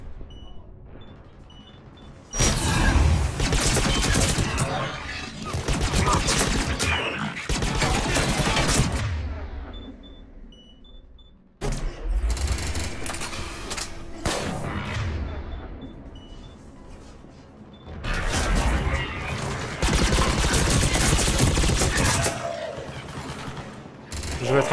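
Loud bursts of rapid automatic gunfire from Mass Effect 3 come in several long volleys separated by brief lulls with mechanical clatter, with no talking.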